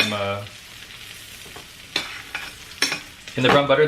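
Brown butter sizzles and spatters steadily in a pan while sweetbreads cook in salted butter, with a few sharp stirring clinks and louder bursts of frying near the end, and no voices.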